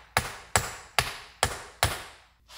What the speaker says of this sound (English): Take your hammer to help.